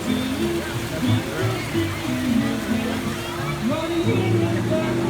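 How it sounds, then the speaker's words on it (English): Water from a pump trickles and splashes under a model train layout, a steady close wash running the whole time with voices talking over it. "See the water comes down here and goes under that drain?"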